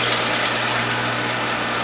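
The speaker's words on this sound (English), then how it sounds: "very carefully I'm going to pour this into the collection bowl" Green juice from a juicer poured into a collection bowl, a steady, continuous gushing pour that holds at an even level for about two seconds with no breaks.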